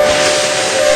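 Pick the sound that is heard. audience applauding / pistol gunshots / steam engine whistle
steam engine whistle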